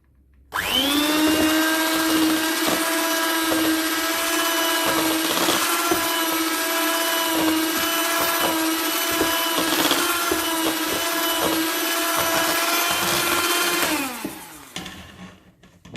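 Electric mixer whipping chocolate fudge cupcake batter, a steady high motor whine that starts abruptly, holds level for about thirteen seconds with faint scraping, then winds down.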